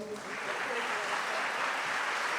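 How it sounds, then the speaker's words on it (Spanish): Audience applause at a provincial conference of economic sciences professionals, a steady dense wash of clapping filling the room, fairly loud and continuous throughout. "Reiteramos el aplauso"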